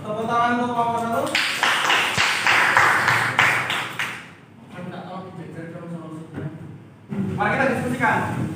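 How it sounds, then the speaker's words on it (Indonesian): A classroom of students claps for a group after its presentation, a burst of quick crowded claps lasting a few seconds, with a teacher's voice speaking before and after it. "Tepuk tangan untuk kelompok 1."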